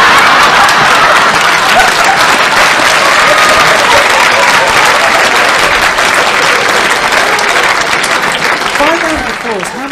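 Loud, sustained audience applause with crowd noise and mingled voices, clapping dense and continuous before tapering off at the end.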